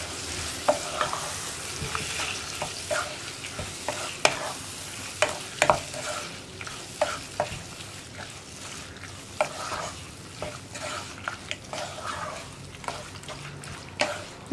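Lemon pieces with their juice being stirred into hot oil for a Kerala-style sadya lemon pickle, giving a steady sizzle broken by repeated scraping clicks of the spoon against the pan, close and fairly loud.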